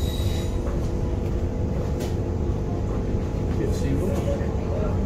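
Aboard a Queensland NGR 731 electric passenger train running express, a steady low rumble and rattle of the carriage fills the cabin, with faint squeaks and clicks over it.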